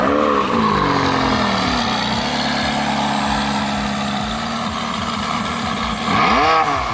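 A 2018 McLaren 570S Spider supercar engine drones loudly and steadily while driving, with gear-change dips and a sharp rising rev near the end.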